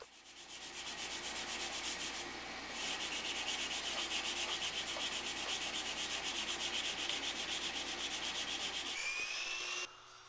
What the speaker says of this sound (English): I ran up the grits and ended with some hand sanding.